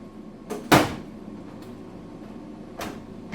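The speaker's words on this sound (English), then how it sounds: "Now I'm betting the console slides out now." A front-load washing machine's soap dispenser console slides out with one sharp plastic clunk, nearby and fairly faint. Lighter knocks and scrapes come just before and a couple of seconds after.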